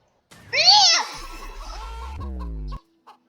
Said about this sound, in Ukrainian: І що таке, курка? Чого ти до мене пристала?